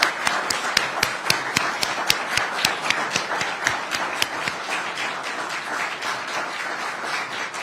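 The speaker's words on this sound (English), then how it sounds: "Let us give a huge round of applause to this extraordinary group." Audience applause at a New Jersey governor's clemency announcement event at Rutgers University, with a few loud, distinct nearby claps standing out over a steady wash of clapping from the crowd.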